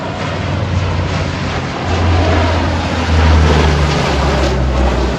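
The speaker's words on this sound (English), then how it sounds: "I'm not quite sure what these American aircraft are" American military aircraft roar overhead near the Juno beach area in France, a loud, continuous low rumble that swells midway and stays strong, heard outdoors with wind noise.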